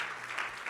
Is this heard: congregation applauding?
yes